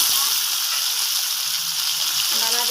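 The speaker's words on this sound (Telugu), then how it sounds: "ఇప్పుడు కరివేపాకు కూడా వేగిపోయిందండి" Onion and curry leaves frying in hot oil for a beerakaya pessarapappu curry, a loud dense steady sizzle up close with faint stirring underneath.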